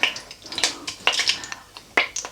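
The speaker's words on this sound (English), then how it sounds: "we'll throw in the bay leaves and just give them a stir." A utensil stirs bay leaves in a pan while making chicken karahi, giving a run of light clinks and scrapes at an irregular rhythm, close and moderately quiet.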